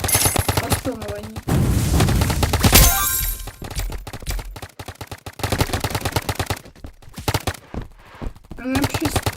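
Rapid rifle fire in the Big Paintball 2 video game, long bursts of fast repeated shots broken by brief pauses, loud and close, with other game sounds in between.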